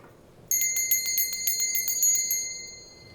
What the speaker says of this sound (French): Je l'aime, ma petite cloche.